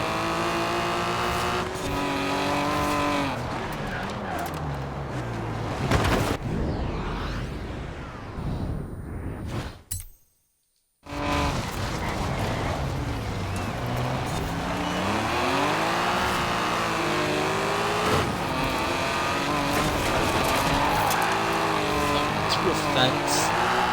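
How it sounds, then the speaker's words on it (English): A car engine revs hard and continuously in the racing game Forza Horizon 4, rising and falling in pitch with tire noise, loud throughout except for a brief silent gap midway. "this car just has 3 engines, all that sound absolutely incredible"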